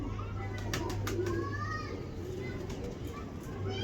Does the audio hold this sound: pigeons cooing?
yes